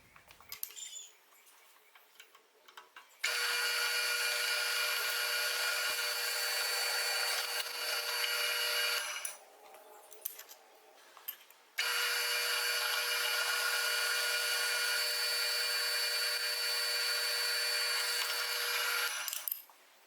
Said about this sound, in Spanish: Aquí le voy a realizar dos perforaciones con broca de 3/8.